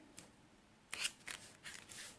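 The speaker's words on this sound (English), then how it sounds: "I'm just going to trim it with my scissors" Scissors trimming a rough edge off a strip of paper during card making: four or five quiet, crisp snips spaced unevenly, close by, with no talking.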